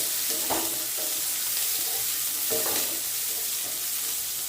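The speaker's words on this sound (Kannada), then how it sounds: "ಕಟ್ ಮಾಡಿ ಇಟ್ಕೊಂಡಿರೋಂಥ ಈರುಳ್ಳಿನ ಹಾಕ್ಕೊಳ್ತಿದ್ದೀನಿ" Onions and dried red chilies frying in oil for a horse gram dish: a steady close sizzle runs throughout, with a couple of brief stirring scrapes standing out.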